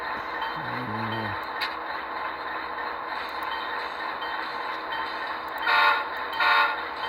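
A model train locomotive's sound plays steadily on DCC rollers with a continuous running hum, a brief low tone early on, and two short horn toots near the end.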